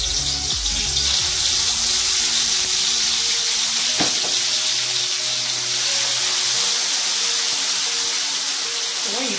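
Spiced ripe plantain pieces frying in very hot oil for kelewele, a loud, continuous hissing sizzle with crackling spatter, close up and steady throughout.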